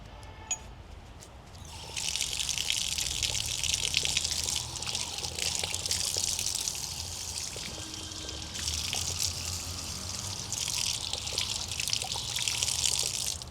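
Water runs steadily while feet are washed in cold water outdoors, a broad hissing flow that swells in near the start and continues with slight variations throughout.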